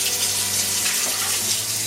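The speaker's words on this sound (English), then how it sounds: "just put the water, which really should be lukewarm" Lukewarm water for French bread poured into a Panasonic bread machine mixing bowl, a steady close splashing stream that runs throughout, alone with no talk.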